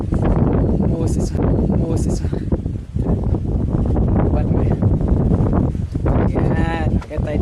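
Strong wind roars and buffets the microphone in a constant, loud rush at a hillside cafe in San Jose, Negros Oriental, with a voice faintly talking beneath it.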